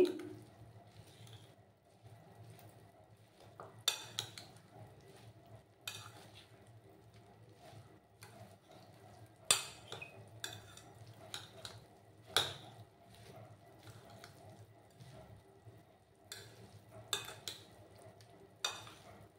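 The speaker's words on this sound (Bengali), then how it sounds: "ভালো করে সবগুলো মিক্স করে নেব আমি।" Egg and puffed rice being mixed in a bowl, soft intermittent clinks and scrapes of a spoon against the dish with quiet gaps between strokes.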